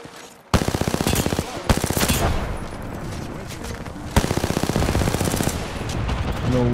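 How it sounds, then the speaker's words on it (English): Rapid automatic gunfire in an online battle royale shooter game, two long sustained bursts of fast, loud, close shots with a brief pause between them. "No way I missed those shots"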